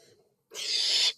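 A barn owl gives a single loud, harsh screech of about half a second, close and alone after a brief faint sound.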